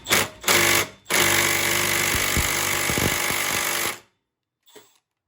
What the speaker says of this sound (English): 220 foot-pounds for 3/8 inch impact, and it's pretty low profile